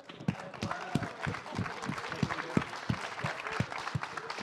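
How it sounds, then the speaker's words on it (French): Steady crowd applause for competitors at a Nintendo Smash Bros championship in Lyon, irregular claps over a dense wash of noise, fairly loud and continuous throughout. "On applaudit encore bien fort nos concurrents s'il vous plaît."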